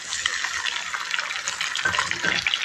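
Shrimp added to a frying pan of browning onions in hot oil, giving a steady, close, crackling sizzle with bright hissing that continues without pause.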